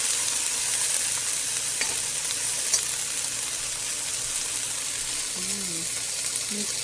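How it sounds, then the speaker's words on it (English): Onions and garlic frying in olive oil for a miso salmon soup, a dense steady sizzle close by, with a brief tonal murmur of voice near the end. "Onions and garlic, when they're toasting like that, in the olive oil, you can smell it"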